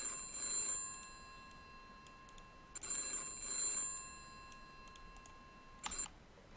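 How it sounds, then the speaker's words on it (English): A telephone in a video game rings in three separate bursts of bright, trilling bell tones, each about a second long, separated by quiet pauses, fairly clear and alone. "Phone's ringing, guys."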